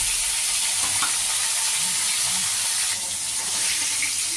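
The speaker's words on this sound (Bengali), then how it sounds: "এবার আমি বাদ বাকি মাছগুলো সব দিয়ে দিলাম" Tengra fish frying in hot oil in a pan, a steady close sizzle and crackle running throughout with a few soft stirring knocks, no voices.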